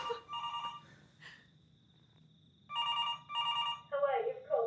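Telephone ringing indoors late at night: electronic trilling rings in separate bursts with pauses, clear and fairly close, with a voice talking between the rings.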